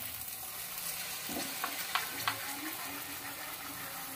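Ground spice paste sizzling as it fries with softened tomatoes in a pan for an eggplant dish, a steady close hiss broken by a few soft scraping clicks near the middle, with no talk.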